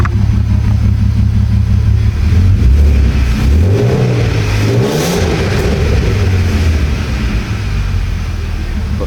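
A 3.2 VR6 engine in an Audi TT idles loud and close, then is revved in a couple of rising and falling pulls before settling back to a steady idle.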